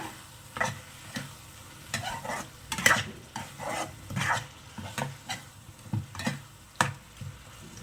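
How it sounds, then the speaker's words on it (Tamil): Prawns with a squeeze of lemon sauté in a pan, with a soft, even sizzle under a series of regular spoon-scraping stir strokes roughly every half second to second, close and fairly quiet. "ஸோ இந்த பச்சை வாசனை எல்லாம் போகிற வரைக்கும் நல்லா வதங்கட்டும்"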